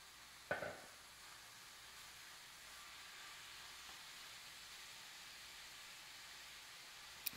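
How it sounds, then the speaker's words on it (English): Ground beef and vegetables fry in a pan, giving a faint, steady sizzling hiss with a small clatter near the start and no voices. "And now it's sizzling and it's pretty much browning."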